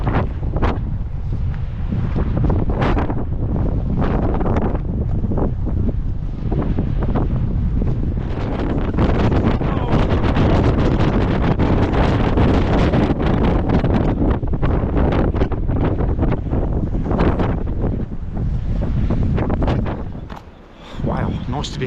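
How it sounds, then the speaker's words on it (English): Strong, constant wind on exposed coastal cliffs along the Southwest Coast Path near Mawgan Porth, roaring and buffeting the microphone for the whole stretch and easing only briefly near the end. "The wind is so strong in exposed sections."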